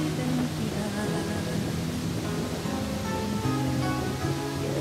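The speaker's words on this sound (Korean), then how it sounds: "바람 소리와 폭포 소리가 어우러져 장엄한 폭포의 자태에 위험을 더해준다" Waterfall roar mixed with wind at a viewpoint in Chile, a steady, dense broadband rush that stays loud and unbroken throughout with no voices.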